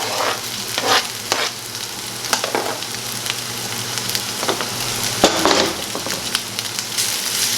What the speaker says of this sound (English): We're going to give that a good stir and let those start frying up.